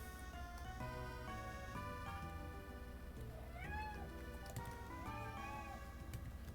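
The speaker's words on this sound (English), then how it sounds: "now Momo's screaming to get back in the room" An indoor cat meows repeatedly, yowling to be let back into a room; the rising, wavering cries come at moderate distance over a steady background hum, with no talk.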